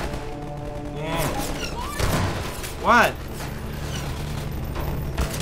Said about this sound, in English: right now, there's just a whole lot of shooting at nothing